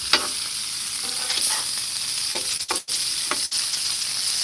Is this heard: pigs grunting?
no